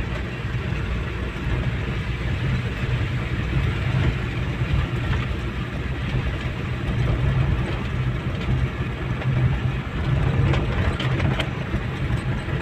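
A motorcycle engine labours up a long, steep uphill road in fog, a steady low drone holding close and fairly loud throughout with no talk over it.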